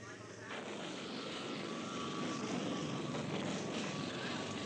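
Aircraft engine drone from propeller planes, tied to the American bombing campaign over Laos, a steady broadband roar filling the whole stretch with no break, loud and continuous as if passing overhead.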